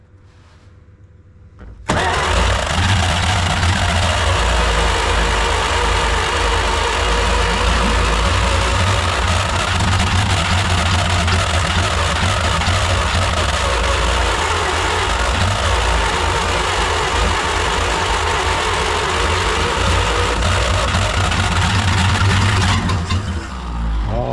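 A 1938 Dodge engine catches after a couple of cranks and runs steadily and loud for about twenty seconds, a rough low rumble with constant intensity, then cuts off near the end.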